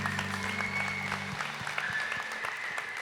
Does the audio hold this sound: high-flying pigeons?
no